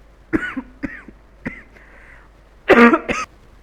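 A person coughs several times in short bursts, close up, ending with a harsher double cough.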